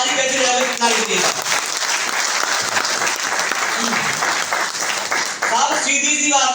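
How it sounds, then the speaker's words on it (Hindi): A crowd at a marketing-plan seminar hall claps loudly and continuously, a thick burst of applause with a voice speaking over it briefly at the start and again near the end. "तो एक बार आप ताली कैसे लीजिएगा"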